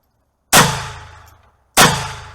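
Two loud, sharp gunshots from a GSG STG 44 .22 LR rifle fired at a tube range, about a second apart, each followed by a short reverberant tail in an enclosed space.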